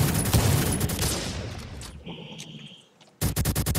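Rapid bursts of gunfire in a Roblox first-person shooter game, a dense loud volley filling the first two seconds, a quieter lull with faint tones, then another sharp burst of rhythmic shots near the end.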